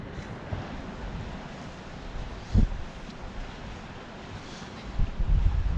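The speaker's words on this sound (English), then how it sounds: "Shouting above the roar of the wind and the crash of the waves." Strong wind gusting over a small lake, a constant rough roar of microphone buffeting with a couple of louder bursts, waves faintly beneath and no talking.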